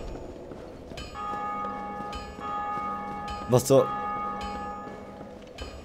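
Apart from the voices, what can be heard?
bell ringing in Dark Souls video game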